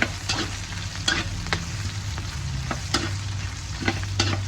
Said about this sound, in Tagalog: magigisa na tayo ng luya